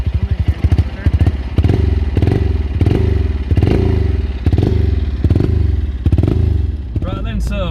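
A motorcycle that had stood unused for four years runs close by with a loud, steady, pulsing idle and rhythmic thumps, briefly revving near the end.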